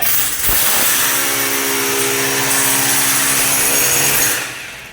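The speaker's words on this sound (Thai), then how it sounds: "เราก็เจาะไปได้เลย" A power drill bores into a partition wall during a room-partition building class at a Bangkok vocational training centre. The whining motor runs loud and steady for about four seconds after a brief knock, with no talking.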